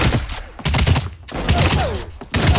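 Loud bursts of shotgun fire in Realm Royale come in quick succession, heavy blasts separated by short gaps, with some layered game sound effects between them.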